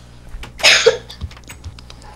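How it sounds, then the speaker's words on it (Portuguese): A woman with flu coughs once, a single harsh close-up burst with a short follow-up rasp, then quiet breathing and faint room sounds. "E eu vou tossir de novo."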